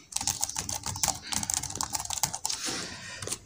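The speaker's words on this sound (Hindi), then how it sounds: "कीज़ भी इसकी प्रेस करके आप चेक कर सकते हैं" Keys are pressed one after another on a Dell Inspiron 3521 laptop keyboard, producing rapid, close, irregular clicks and taps that continue throughout.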